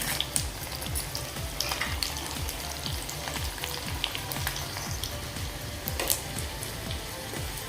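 Broken red chillies frying in hot oil as a tempering for Kashmiri rajma masala: a dense, steady sizzle and crackle, close and fairly loud throughout with no talk.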